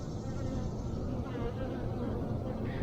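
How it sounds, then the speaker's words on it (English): Honey bees swarm around a rooftop hive opened for a honey harvest, their steady, dense buzzing close and continuous throughout without any break. "there's 2 different types of bees in here"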